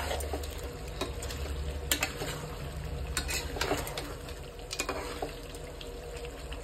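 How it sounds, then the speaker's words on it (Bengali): Chicken sizzles steadily in a hot pan as it is stir-fried kosha style, with frequent scraping and clacking from a spatula over the continuous frying hiss. "এইটা আমি চিকেন কষছি, এখনো হয়নি, চিকেন কষা চলছে।"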